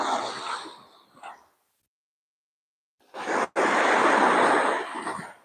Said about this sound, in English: Can you hear the waves, you guys?